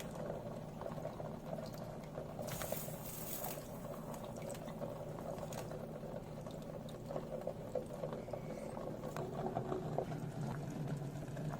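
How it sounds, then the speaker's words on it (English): Steady bubbling of laksa soup boiling in a pot, a continuous dense simmer with occasional louder pops, close and alone without voices. "It's boiling now."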